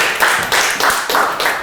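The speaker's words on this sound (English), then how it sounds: "give him a big clap" A short burst of audience applause for a speaker at a talk: close, dense clapping that swells in a few uneven pulses over under two seconds.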